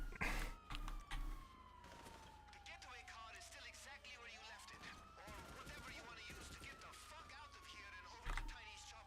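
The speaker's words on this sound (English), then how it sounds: "I can hear the sirens from here" Wailing police sirens in Grand Theft Auto Online sweep slowly up and down in a long rising and falling tone, steady and moderately loud, with gunfire bursts and a thump or two mixed in as someone talks over them.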